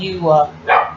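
Dogs give two loud, close barks in quick succession indoors, with a speaker's voice mixed in around them.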